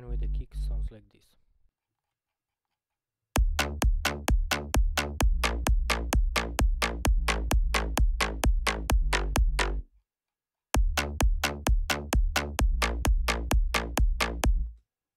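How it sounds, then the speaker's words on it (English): Punchy big room kick drum programmed in FL Studio hits in a fast, steady four-on-the-floor run of repeated thumps, pauses briefly, then resumes; a short burst of speech comes before the kicks begin. "And with the kick sounds like this."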